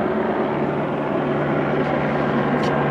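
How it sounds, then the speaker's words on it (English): A steady, loud mechanical drone with a low rotor hum runs throughout, like a helicopter nearby holding a constant roar. "Helicopter approaching."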